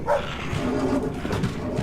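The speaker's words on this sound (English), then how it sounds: "So there's an invisible doggy." A dog in the video game INFERNIUM, whimpering and giving short soft barks in a steady, fairly loud run of whines and yips.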